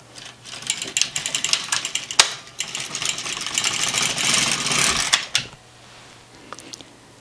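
A Silver Reed LK150 knitting machine knits the first row of a kid's sock, the carriage sliding across the needle bed with a dense rattling clatter of needles, rising for several seconds, then stopping with a few faint clicks.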